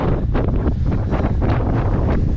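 Strong wind on a kitesurf beach buffets the microphone in a loud, continuous roar with gusty surges, drowning out everything else.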